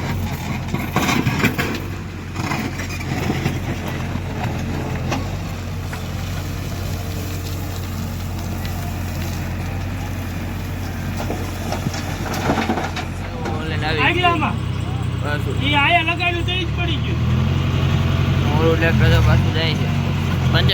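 A diesel tractor engine idles steadily nearby on a farm with a low droning hum, while people talk over it at times.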